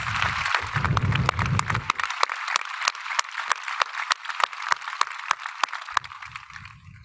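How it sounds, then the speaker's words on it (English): Rhythmic group clapping at a high school graduation ceremony, evenly spaced claps from a crowd, with low murmuring voices at the start and end. "Let's give them a round of applause"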